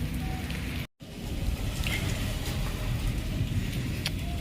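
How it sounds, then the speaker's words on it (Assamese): Steady rain falling outdoors in Assam, a continuous close hiss and patter with a brief dropout near the start. "আজি একদম বৰষুণ আহি গ'ল"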